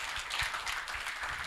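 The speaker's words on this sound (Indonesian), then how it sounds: "Tepuk tangan untuk kita semua." Sustained applause from a conference audience at Indonesia's Green Jobs Conference 2023, dense overlapping claps filling the whole moment at a moderate, even level.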